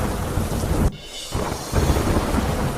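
Steady rain pours down in the ISCON area of Ahmedabad with a dense, broadband hiss, briefly dropping out for a moment before the downpour resumes at full strength.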